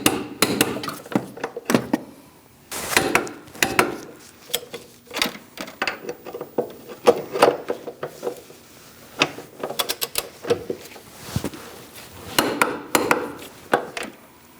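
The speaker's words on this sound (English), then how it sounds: "Now we're going to torque these 3 bolts to 50 foot-pounds." A torque wrench ratchets in quick, sharp clicking bursts with short pauses, tightening three motor mount bolts to 50 foot-pounds on a 2000-2006 Mini Cooper 1.6L four-cylinder. The clicks are close and loud.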